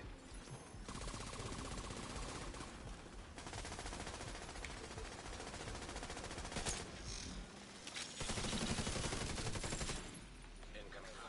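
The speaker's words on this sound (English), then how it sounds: "Something shooting me like crazy." Sustained enemy automatic gunfire in The Division 2, a dense rattling fusillade running nearly nonstop at moderate distance, with short gaps and a louder burst toward the end.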